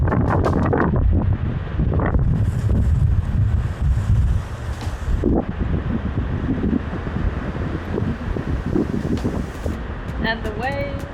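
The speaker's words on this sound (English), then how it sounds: "And it's super windy." Strong wind buffets the microphone at a sailboat anchorage off La Gomera, a steady loud roar with gusts running throughout, and a voice speaks briefly over it near the start.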